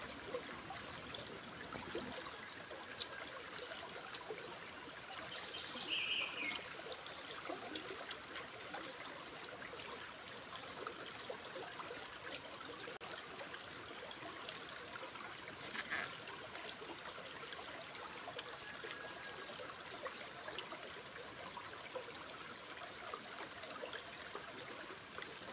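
Continuous rushing and trickling of a flowing river, steady and fairly soft, with no voices.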